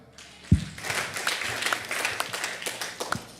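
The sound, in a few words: applause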